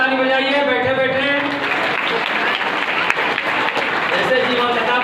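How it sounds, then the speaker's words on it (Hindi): Students and parents at a school's annual exam-results prize ceremony burst into loud, continuous applause that fills the room throughout, with a voice speaking over the clapping at the start. "बहुत जोरदार ताली बजाइए।"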